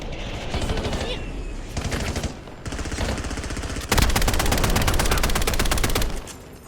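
Rapid automatic gunfire in the battle royale game Warzone, sustained bursts of close, loud shots with brief gaps, ending in a long dense volley.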